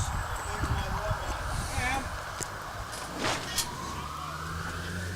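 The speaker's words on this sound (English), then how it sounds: "a few sirens going on" Sirens from emergency vehicles wail steadily in the distance near an outdoor bowls pairs final, a rising tone sweeping beneath traffic hum and close-up chatter.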